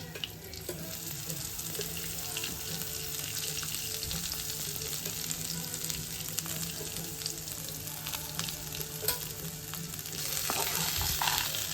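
Curry leaves and washed coriander fry in oil over a slow flame, giving a steady, close sizzle with occasional stirring and no voices.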